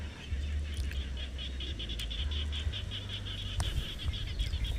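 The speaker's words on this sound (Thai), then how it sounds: "ฟังเสียงกบเสียงเขียดมันจะร้องหาคู่กัน" Frogs croak at dusk in rural fields, a dense chorus of rapid repeated calls over a low steady hum of insects and other creatures.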